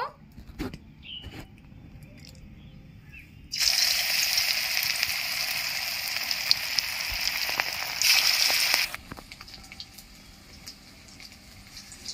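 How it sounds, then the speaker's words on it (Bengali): A loud, steady sizzle of Malabar spinach fritters frying in hot oil in a kadai starts abruptly partway through, holds, then drops away, with quiet clinks before and after. "বড়াগুলো এখন আমি ভেজে নেব।"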